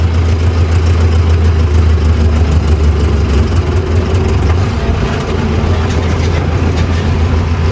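Mahindra Novo 605 tractor engine running loud and close in high fifth gear while hauling a loaded trolley, a heavy continuous low diesel rumble that stays steady throughout.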